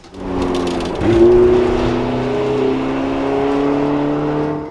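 A Porsche 918 Spider's naturally aspirated 4.6-liter V8 runs close by with a steady tonal drone, rising in a brief rev at about one second and then holding at a higher pitch until it cuts off.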